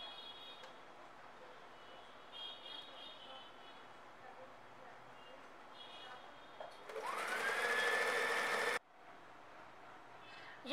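A sewing machine stitching lace onto the end of a dupatta runs in a loud, steady whir for about two seconds and then stops, after quieter room sounds with a faint voice.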